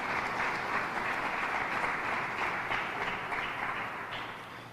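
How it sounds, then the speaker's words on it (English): Officials and attendees at a Rochester press briefing applaud community-based organizations, a brief burst of many hands clapping that stays full and steady before tapering slightly at the end. "A round of applause for all the community-based organizations."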